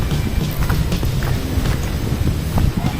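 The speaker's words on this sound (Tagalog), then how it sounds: "Malakas ang hangin dito, palibasa mataas to lugar na to." Strong wind at a high, exposed spot buffets the microphone with a constant low roar and rumble, gusting slightly throughout.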